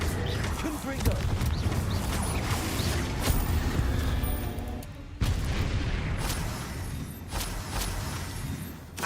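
Explosive Confringo spell blasts crackle and boom in Hogwarts Legacy, dense and loud, with continuous rumbling impacts and mechanical game effects and a brief drop midway.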